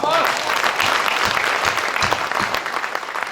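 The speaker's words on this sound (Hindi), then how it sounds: "पर मैं जो कहना चाहता हूं उस पर आपकी तालियां चाहिए।" Loud, dense applause from the crowd at a Hindi poetry recital fills the space, a sustained wash of many hands clapping together that tapers slightly toward the end.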